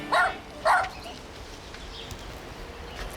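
Two short, sharp barks from a dog, close together near the start, then quiet background noise with faint distant sounds.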